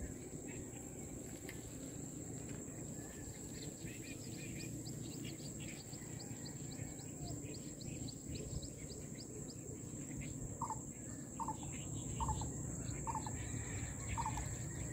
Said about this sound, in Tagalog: kumurukok-kok daw, kurukok-kok daw, sabi ng ano ibon